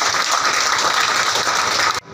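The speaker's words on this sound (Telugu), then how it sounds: "గట్టి క్లాప్స్ అక్కడికి" Audience applause at a Telugu news event or meeting: dense, steady clapping from a crowd, fairly loud and unbroken for about two seconds, then cutting off abruptly to quiet room tone.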